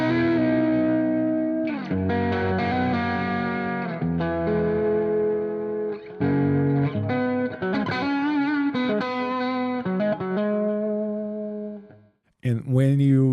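Electric guitar through an amp sim, Nebula on a Hammer Cab 4x12 with a 421 microphone and no filter, playing distorted chords and riffs with brief pauses before a short final burst.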